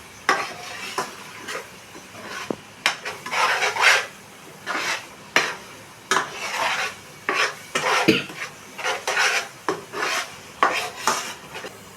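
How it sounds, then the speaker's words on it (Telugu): A spoon stirring chili powder and biryani masala in a metal pot, with repeated scraping and clinking strokes in an uneven rhythm, close and fairly loud over a faint sizzle. "కారం, బిర్యానీ మసాలా మొత్తం వేసేసి ఒకసారి కలిపేసుకుందాము."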